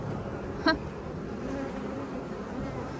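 Honeybees in an opened hive box, stirred up after brood frames were moved, giving a faint continuous buzzing hum with one brief louder buzz passing close by.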